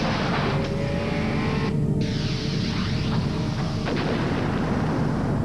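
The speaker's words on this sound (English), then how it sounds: "Miller Genuine Draft Rusty Wallace stock car." Rusty Wallace's Miller Genuine Draft stock car racing at the 1993 Phoenix race, a loud continuous engine roar with cars sweeping past, the pitch rising and falling as they go by.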